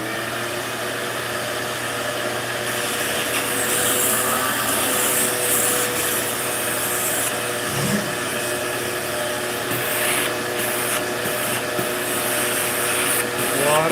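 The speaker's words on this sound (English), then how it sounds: "let me hit this with the vacuum again" Shop vacuum running steadily and loudly while cleaning up a mess in a home garage, a continuous whine with shifting pitch as the nozzle moves, holding for the whole stretch.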